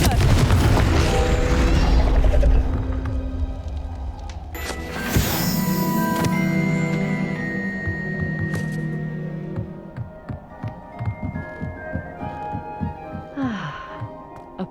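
Confringo fire spell explosions in the video game Hogwarts Legacy, a loud rumbling blast at the start and another sharp burst around five seconds, fading into scattered softer impacts and crackles.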